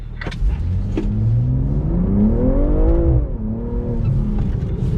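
A BMW G80 M3 accelerating on the Spartanburg factory track, its engine note climbing steadily and then easing off as it passes fairly close, loud and alone with no talk.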